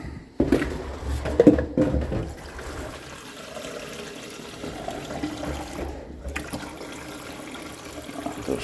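Clean water pours and splashes steadily into a drinker for female racing pigeons, close by, with a few louder gurgles early on and a continuous liquid rush afterward.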